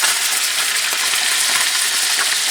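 Chicken pieces fry in hot melted butter with a dense, steady sizzle and crackle, loud and close throughout.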